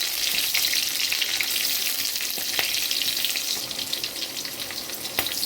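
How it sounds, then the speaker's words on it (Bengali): Nigella seeds temper in hot oil for a hilsa curry, giving a loud, continuous sizzle and crackle with a few sharper pops, heard alone. "এই যে ফোড়নে দিয়ে দিলাম আমি কালো জিরা"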